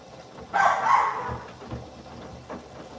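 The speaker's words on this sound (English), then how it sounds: "Sorry guys, my dogs are really loud." Dogs bark indoors at a home, with one loud, close burst of a couple of barks followed by a few fainter, scattered yips.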